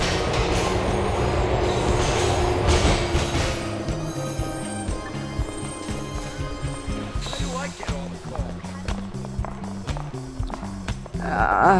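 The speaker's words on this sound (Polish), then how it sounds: "O, jedzie nasz pociąg." A train pulls into a station in the video game GTA IV, its steady rumble and clatter running loud and continuous, with a rising screech near the end.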